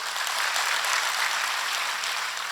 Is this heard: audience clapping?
yes